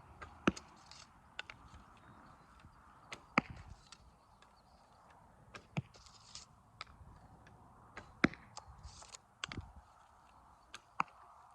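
Sharp, short snaps spaced a few seconds apart, like arrows released from a bow, each a crisp twang-thump against a quiet background.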